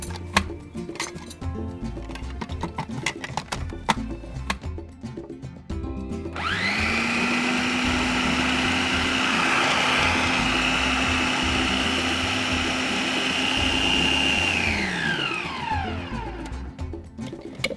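A blender whirs loudly for about eight seconds, mixing a lime juice marinade for boneless chicken thighs, starting and stopping abruptly between stretches of kitchen clatter.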